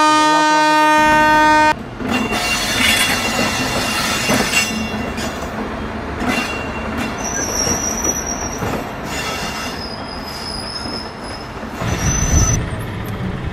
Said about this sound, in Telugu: ఇక్కడ నుంచి బ్యాక్ నుంచి ట్రైన్ వస్తుంది, ఇక్కడ నుంచి క్రాసింగ్ అవుతుంది